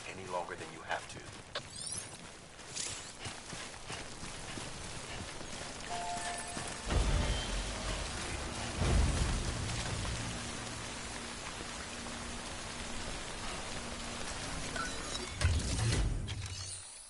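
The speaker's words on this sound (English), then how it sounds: "Don't stay out in the rain any longer than you have to." Timefall rain in the video game Death Stranding, a steady broadband patter of rain falling on surfaces that continues throughout, with some heavier thumps and movement sounds mixed in.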